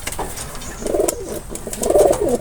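Racing pigeons cooing in a loft, soft repeated throaty coos in two close bursts over a faint background of other bird sounds.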